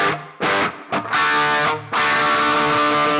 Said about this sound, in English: I made this edge of breakup sound based on a Vox AC30